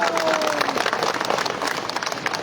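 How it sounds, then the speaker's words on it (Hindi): Crowd at a Congress party political rally speech in Guwahati applauding loudly, a dense sustained wash of clapping from many hands throughout, with a brief tonal whistle near the start. "एक बार जोरदार ताली बजा करके मुझे आदेश दीजिए"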